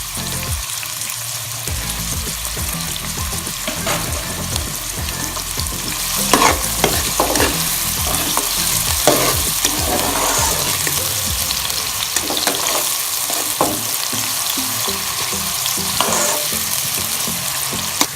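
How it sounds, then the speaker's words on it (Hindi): Onions sautéing over medium-high heat in a pan for a Pakistani daal mash, with a steady close sizzle and frying hiss. Repeated stirring scrapes run through it, and no one speaks. "अब हम इसमें प्याज डाल के उसे तकरीबन सौटे कर लेंगे"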